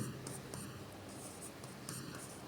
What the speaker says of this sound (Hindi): जैसे अगर उदाहरण लिखेंगे तो मैं लिखूं, राम ने रावण को